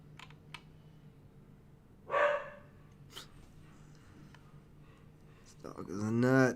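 A dog barks indoors in two short bursts, the second louder and more drawn out, close by against a quiet background with faint clicking.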